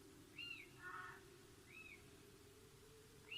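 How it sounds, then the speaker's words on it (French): Several short, high bird calls sound at intervals over a quiet background hum, fairly clear but not loud. "Et on les entend là, ces oiseaux d'ailleurs."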